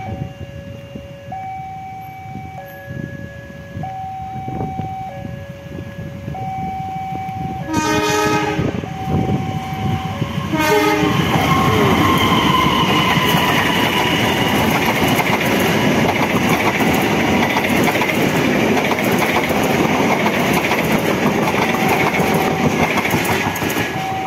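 The Serayu passenger train from Purwokerto passes near Bandung. A melodic horn plays a series of tones before the loud rumble and clickety-clack of the wagons builds close by and carries on steadily.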